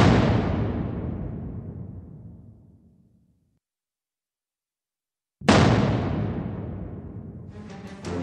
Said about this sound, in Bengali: यहाँ पे आप देख सकते हैं बहुत जोरदार धमाके हो रहे हैं